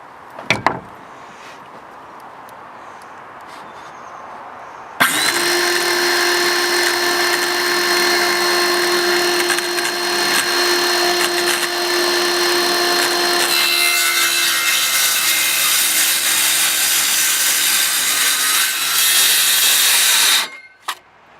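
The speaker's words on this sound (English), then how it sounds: "I've set the depth of my skill saw so that it goes just short of actually going through this 2x2" A circular saw set just shy of full depth cuts through a wooden 2x2 resting on plywood, a loud steady whine lasting about fifteen seconds, close by, with the blade spinning down at the end.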